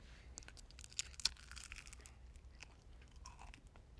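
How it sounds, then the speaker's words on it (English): Soft bites and chewing into a chocolate caramel macaron with a thin crunchy shell and soft cookie, with faint crisp cracks and quiet mastication heard up close. "It only has a little bit of crunch on the outside, and the cookie is soft."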